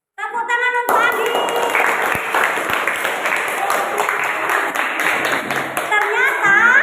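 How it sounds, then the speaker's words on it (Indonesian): Classroom of students clapping for a classmate, a loud, busy rattle of hands close by that starts abruptly after a brief tonal sound and continues with voices mixed in. "Tepuk tangan untuk Adi."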